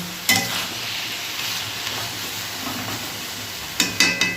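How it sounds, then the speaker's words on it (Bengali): Ash gourd cooked with moong dal in a pan, giving a steady close sizzle with a spoon scraping at the start and a few quick stirring strokes near the end. "আর একটুখানি নাড়াচাড়া করে এটা নামিয়ে দেবো"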